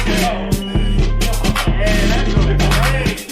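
A fast, irregular hip-hop beat standing in for a heart in atrial fibrillation, with heavy bass kicks landing at uneven, stuttering intervals under bright synth layers, loud and close throughout with no talking.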